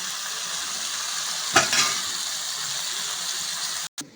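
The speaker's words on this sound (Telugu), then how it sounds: "టమాటా ఉడకని." Tomatoes cooking in a pan for a boiled egg curry give a steady close sizzle with a brief stir or clatter partway through, then a short break and a soft bump near the end; no one speaks.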